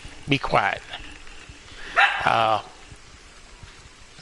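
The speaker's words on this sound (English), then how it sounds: "you'll have to excuse the dog" A pet dog barks and yips a few times nearby in a home setting, short sharp bursts at the start and again midway, with a person speaking around them.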